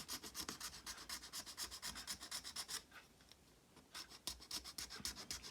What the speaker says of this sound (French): Et vous venez frotter comme ceci.